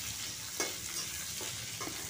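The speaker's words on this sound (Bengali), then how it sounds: "তারপর পেঁয়াজটা একটু লাল করে ভেজে নেব।" Chopped onion frying with cumin and whole garam masala in a pan for a cauliflower curry gives a steady, close sizzle, with a few soft stirring scrapes over the hiss.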